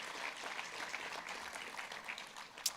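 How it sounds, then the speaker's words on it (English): A round of applause for two choir directors at a Jr. Miss and Miss Cherokee pageant: steady, dense clapping from a seated audience, fairly even throughout, with one sharper clap near the end and no talk. "They also deserve a round of applause."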